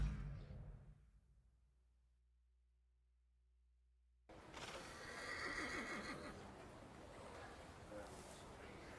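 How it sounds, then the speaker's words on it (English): Horse in the video game The Thaumaturge, heard after a quiet pause as a loud whinny with hoof and movement noise, backed by game ambience. "I meant to take the horse out for a run, so get on."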